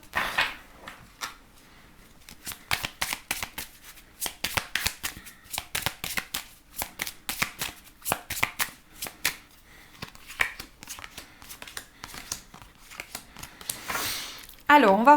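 Oracle cards being shuffled by hand in a tarot-style reading, a long run of quick crisp riffling bursts close to the mic, with a brief voice near the end.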